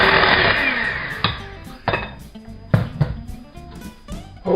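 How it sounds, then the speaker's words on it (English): An egg is beaten into chocolate cake batter for an Irish cream cake. An electric mixer whirs close and loud at first, followed by several knocks and bumps as the mixing continues. "So in with the egg, give it a mix."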